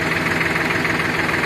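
Escorts Powertrac farm tractor engine idling at about 600 rpm, a steady, loud, close diesel chug with even rhythmic knocking and no speech.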